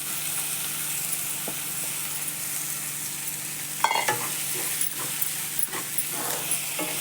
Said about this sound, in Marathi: हे बघा मस्त असं परतून द्यायचं.